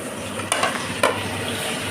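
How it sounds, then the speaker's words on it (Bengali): Marinated meat frying with onion, capsicum and tomato gives a loud, steady sizzle, broken by two quick scrapes of a spatula in the pan, with no one speaking. "এখন এটা ভাজাভাজি চলছে।"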